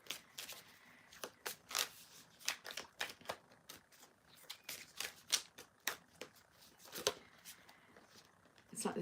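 Tarot cards being shuffled by hand, a run of quick crisp riffling and slapping bursts in an uneven rhythm, close and fairly soft.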